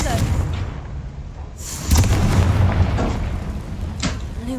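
A Confringo blasting spell goes off in Hogwarts Legacy, a deep booming explosion that swells about two seconds in and rumbles on under game ambience, with a voice shouting just before.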